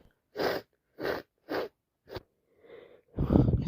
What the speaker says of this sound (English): Help me with my sneezing.